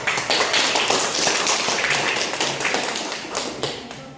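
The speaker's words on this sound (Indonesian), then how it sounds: "Kita beri tepuk tangan untuk kelompok 5." Classroom students clap together for a presenting group during an Indonesian school lesson, a dense, steady patter of many hands that fills the room and fades slightly toward the end.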